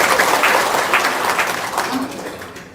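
Dense audience applause fills the whole stretch at a steady, fairly loud level, fading slightly toward the end, with a brief exclamation from the crowd mixed in.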